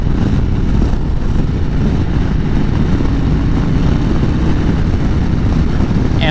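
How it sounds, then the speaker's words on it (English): A 2020 Harley-Davidson CVO Road Glide motorcycle running, a dense, steady engine drone heard while riding with wind rush, loud and unbroken throughout. "The engine is very smooth."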